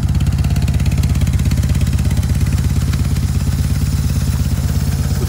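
A 2002 R 1200 C motorcycle engine running steadily up close, a loud, even, rapid thumping idle with a light mechanical clatter and no talking.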